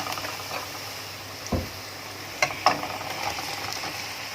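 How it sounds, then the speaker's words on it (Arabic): Sausage meat going into a pan of browned fried onions, with steady soft sizzling and a few sharp clicks of a spoon or pan mid-clip; no talking. "هبتدي بقى احط السجق"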